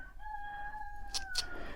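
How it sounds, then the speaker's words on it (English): A rooster crows once in a long, drawn-out call, fairly faint and distant, with a couple of brief chirps near the end. "That rooster has not shut up since about 6:30 this morning, as roosters do."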